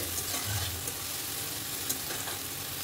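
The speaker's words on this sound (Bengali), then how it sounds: "এটাকে গরম তেলে ভালো মতো নাড়াচাড়া করে নেব, কাঁচা গন্ধটা চলে যাবে।" Spice paste is stirred in hot oil for a prawn malaikari, a soft, steady sizzle with a few light scrapes, fairly quiet and close, with no voices.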